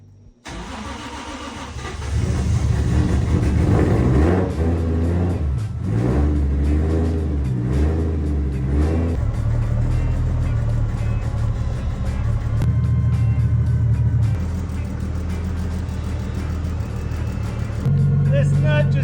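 A Toyota 1JZ engine fitted in a Ford Foxbody cranks and fires on its first start after months sitting, then revs in several rising and falling bursts before settling into a loud, rough idle close by.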